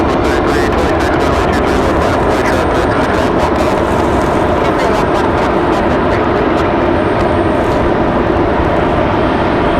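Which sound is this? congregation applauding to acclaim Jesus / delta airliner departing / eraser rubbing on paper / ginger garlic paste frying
delta airliner departing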